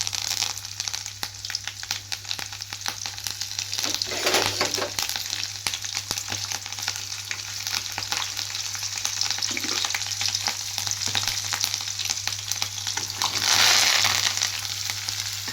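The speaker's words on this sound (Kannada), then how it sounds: "ಇವನ್ನೆಲ್ಲ ಹಾಕಿ ಈಗ ಎಣ್ಣೆ ಒಳಗೆ ಚಲೋ ಸ್ವಲ್ಪ ಒಂದು 5 ನಿಮಿಷ ಫ್ರೈ ಆಗೋಕೆ ಬಿಡೋಣ್ರಿ." Green chillies and onions fry in hot oil as they are stirred, giving a steady close sizzle with scraping stir strokes throughout, swelling a little louder near the end.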